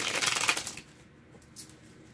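Tarot cards are shuffled in a quick, crisp riffle of flicking card edges at close range, then a pause and a brief softer rustle.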